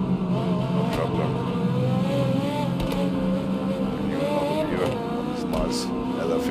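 Lexus LFA racing around Hockenheim in the Automobilista 2 sim, a steady engine drone with shifting tones through the lap, loud and continuous with a voice talking over part of it.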